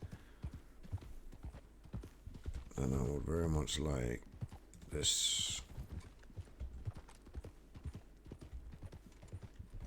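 Steady clip-clop of horse hooves trotting at an even pace in Red Dead Redemption 2, with a person speaking briefly over the middle and a short burst of other game noise.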